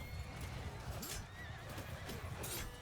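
Horses in a Bannerlord battle give a sharp, wavering neigh and whinny, with hoof clip-clops and battle noise mixed in around them.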